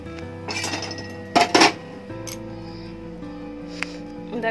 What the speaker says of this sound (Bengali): এই তিলটাকে আমি কড়াইয়ে একটু টেলে নিই